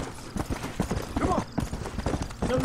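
Rapid clip-clop of horse hooves in the video game Red Dead Redemption, with someone talking loudly over the steady trotting rhythm.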